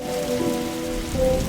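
Steady rain patters in the video game Darkside Detective, a dense even hiss of drops on surfaces running throughout, fairly loud and alone without voices.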